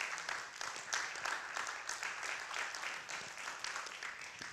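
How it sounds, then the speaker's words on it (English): A congregation at a Sunday morning gathering gives a steady round of applause for a woman, dense, even clapping at moderate volume with no voices over it. "Can we just clap for her?"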